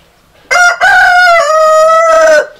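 A rooster crowing very loud and close, one full cock-a-doodle-doo call about two seconds long with a brief break after the opening note, standing alone with no talk.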